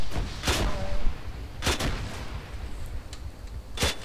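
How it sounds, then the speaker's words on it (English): GMG grenade machine gun firing in a video game, three sharp broadband blasts spaced about a second or more apart, loud and close against a steady low rumble of background game noise. "don't be shooting the GMG so close, you're hurting us"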